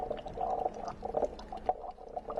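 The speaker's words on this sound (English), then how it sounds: "Open the top of my reservoir here, and you can see the bubbles." Water bubbles and fizzes steadily inside the open reservoir of a working HHO cell, a close, continuous gurgling with small popping bursts.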